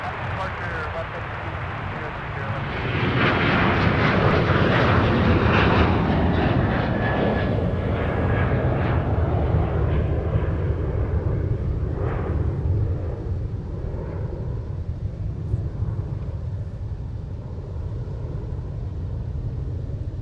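An airliner taking off from runway 30 left at Minneapolis–Saint Paul airport on a windy day, a swelling engine roar that builds and holds as a steady rumble, heard alongside radio talk.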